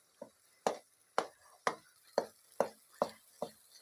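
Peanut halwa being roasted and stirred in a pan, heard as eight regular, sharp spatula scrapes and knocks against the pan, about one every half second, close and fairly quiet with no talking.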